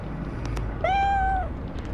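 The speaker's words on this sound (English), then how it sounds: "Cat cat meow." A single clear cat meow from the Fallout Shelter video game, one drawn-out mid-pitched call over a low background hum, with faint clicks just before it.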